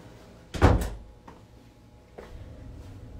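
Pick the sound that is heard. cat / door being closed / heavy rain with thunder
door being closed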